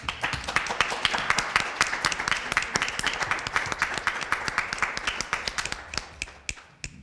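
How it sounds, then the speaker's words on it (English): Audience applause for climate justice panelists, a dense crowd of hand claps with sharp individual hits, steady and fairly near before slowly thinning out at the end. "Let's give the panelists a round of applause."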